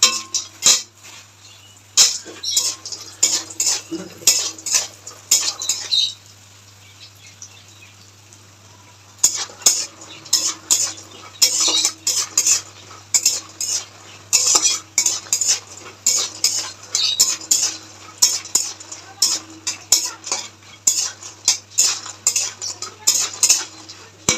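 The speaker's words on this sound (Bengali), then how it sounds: "এবার বড়িগুলোকে একটু লাল করে ভেজে নেবো" Lentil dumplings (bori) frying in white oil in a wok, with a metal spatula repeatedly scraping and clinking against the pan close by in quick bursts, pausing briefly midway, over a faint hiss of oil.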